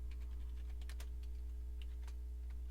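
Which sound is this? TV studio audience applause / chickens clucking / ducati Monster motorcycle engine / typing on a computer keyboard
typing on a computer keyboard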